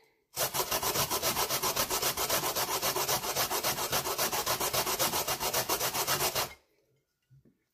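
A small avocado seed is rubbed against a hand grater in a steady run of rapid, close scraping strokes lasting about six seconds, loud and continuous, then stopping abruptly into near silence.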